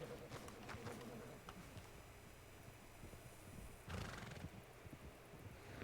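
A horse whinnies and neighs, with clip-clopping hooves in Red Dead Redemption 2, sounding close and fairly loud, with a second burst of neighing near the end and a voice only faintly present.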